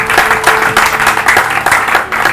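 A church congregation claps loudly and steadily in praise, a dense close wash of applause that fills the room without a break.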